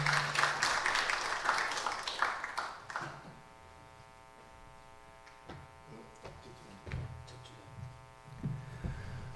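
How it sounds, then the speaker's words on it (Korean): Applause from a lecture hall audience welcoming a speaker and a moderator to the stage at a talk event, a loud burst of clapping at the start that fades into a quieter room with scattered sounds. "여러분 큰 박수 부탁드리겠습니다."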